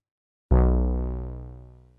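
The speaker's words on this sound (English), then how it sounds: "The Moog sub-fatty." A single deep Moog Sub Phatty synthesizer bass note strikes sharply and decays steadily over about a second and a half.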